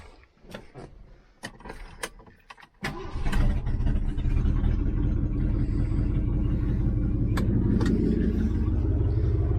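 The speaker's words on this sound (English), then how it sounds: "It starts so nice" A Ford Galaxie full-size car cranks over after a few light clicks and catches, settling into a loud, steady low rumbling idle close by.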